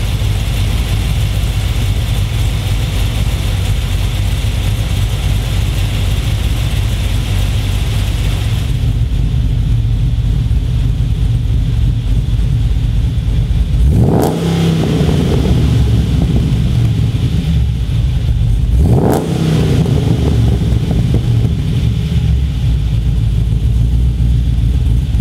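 LS V8 fitted with a VCM forced-induction camshaft, idling with a lumpy, steady low rumble, then blipped twice in short revs around the middle of the clip before settling back to idle.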